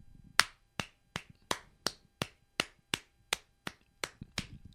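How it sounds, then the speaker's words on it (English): Hand claps from a patty cake game on wet sand at the beach: a dozen sharp, evenly spaced slaps in a steady rhythm, close and crisp, with no talking. "I'm playing patty cake"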